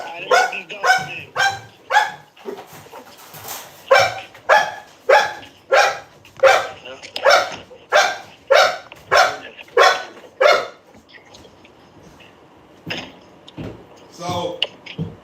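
Dogs barking outdoors in a long run of loud, evenly spaced barks, pausing before a few more close yips, with a voice faintly heard between.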